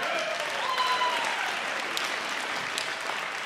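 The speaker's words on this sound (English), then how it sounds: "applause." A crowd at a cabaret-style opening act bursts into sustained applause, a thick even roar of clapping hands heard alone at a steady level for the full stretch, with a faint tone line drifting underneath.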